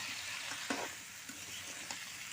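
Bitter gourd, potato and cucumber sizzle and fry in a spiced curry base over high heat, a steady crackle with occasional stirring scrapes, close and without voices.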